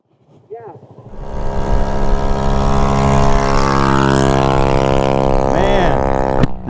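A Honda PCX 150 scooter speeds past on a desert highway ride from Lake Havasu to Winslow, Arizona. Its engine drone swells in quickly and stays loud and close as a steady, buzzing hum.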